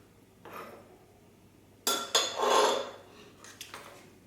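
A knife roughly chopping a tablespoon of capers on a board for potato salad vinaigrette: a faint tap, then a few close, sharp cuts with a scraping rustle and scattered quieter taps.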